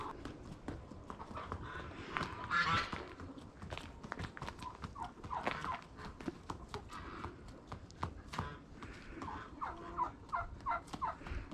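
A pet bird named Professor Snape calls repeatedly during a mating dance, giving rough gobbling bursts close by, with shuffling steps and rustling between the calls.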